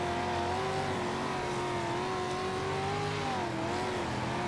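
Dirt track race cars in the World of Outlaws game roar ahead at a restart, a steady wavering engine drone of several motors holding near and loud without pause.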